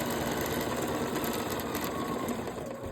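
Sewing machine stitching wavy quilting lines across a fabric pillow, a close, steady, fast mechanical whir with a rapid buzzing needle rhythm running without pause.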